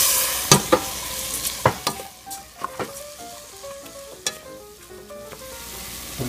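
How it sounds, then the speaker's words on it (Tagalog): Black rice being stirred in a hot frying pan, with a steady sizzle broken by repeated sharp scrapes and knocks of the spoon against the pan, close and fairly loud. "isunod na po natin ang black rice. Haluin po muli natin."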